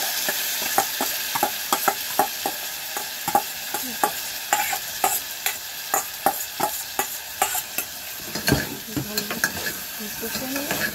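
Broken wheat dalia being sautéed in a pan with already fried potato and tomato: a steady sizzle runs under repeated sharp spatula scrapes and knocks at an irregular stirring rhythm, close and fairly loud, with no talk.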